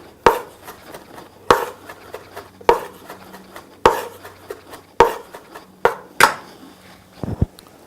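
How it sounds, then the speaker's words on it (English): Fresh rosemary being chopped with a knife on a cutting board, with sharp, evenly spaced knife strikes about a second apart, close and clear, ending in a quick cluster of lighter taps. "a herb, rosemary, very, very aromatic. Just need to chop it."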